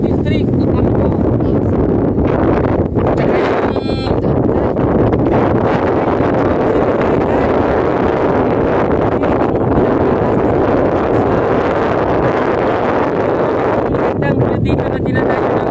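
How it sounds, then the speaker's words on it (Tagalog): Strong wind on a hilltop at Tinawagan Hills in Camarines Sur, buffeting the microphone as a loud continuous roar and rumble throughout, with bursts of gusting and a voice partly buried beneath it. "ang sarap ng hangin"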